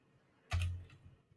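A single key press on a computer keyboard, entering an equals sign into a Google Sheets formula bar: one short, soft tap with a brief clack, alone in a quiet room.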